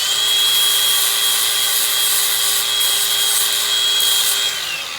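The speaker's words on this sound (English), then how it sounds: "I'm gonna tap it with the flap." Flap wheel on a grinder working an aluminum throttle body from a 1994 GMC C3500 TBI, a steady loud high-pitched whine with abrasive hiss, running continuously alone.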